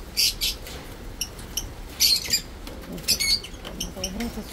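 Pet budgerigars chirp and squawk in a room, with bursts of bright twittering coming and going over a steady background, sometimes loud and close.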